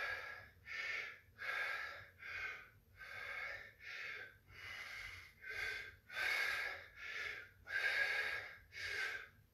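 Heavy rhythmic breathing after a shoulder and traps weight workout, about a dozen close, forceful breaths in a steady in-and-out rhythm with quiet gaps between, no talking.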